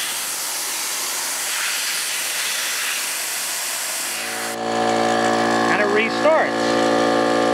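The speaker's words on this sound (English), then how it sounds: "I'll pop the valve here and you'll see it will." Air hisses out of an old compressor tank's valve as a loud, steady rush that stops partway through. A motor hum and a voice follow.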